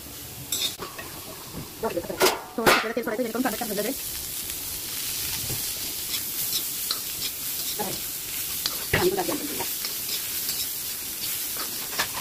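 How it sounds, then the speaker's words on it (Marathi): Onion fries in oil in a pan under a steady hiss and sizzle, with occasional stirring scrapes and clatter, while a voice speaks intermittently over the cooking. "कांदा भाजून घ्यायचा, याच्यात थोडंसं आपल्याला तेल सोडायचं आहे।"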